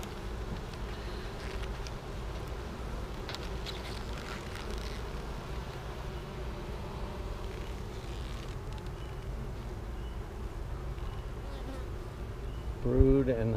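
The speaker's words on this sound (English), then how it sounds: "I hear a lot of buzzing going on right now." A swarm of honeybees buzzes continuously around an open Flow Hive, a steady low drone heard nearby throughout, with a brief louder knock near the end.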